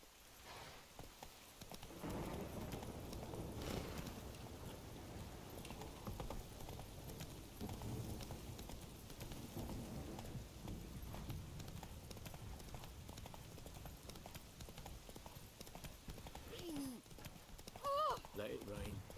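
In the Witcher 3 video game, a horse's hooves clip-clop in a steady galloping rhythm for the whole stretch, moderately loud over rain-like background ambience, with voices talking now and then.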